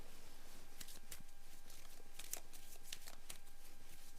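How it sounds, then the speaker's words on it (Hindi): Tarot cards are shuffled by hand in a series of soft, crisp riffling slaps and flicks, an irregular burst of about a dozen close strokes, faint and with no talking. "मैं कार्ड्स आपके सामने शफल कर देती हूँ"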